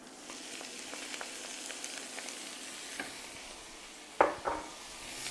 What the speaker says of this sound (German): So, bei den Speck mache ich jetzt den Sauerkraut dazu.